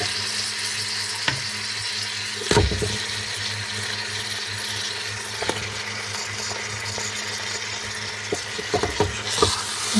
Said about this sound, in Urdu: گوشت ہمارا یہ دیکھیں اچھی طرح فرائی ہو گیا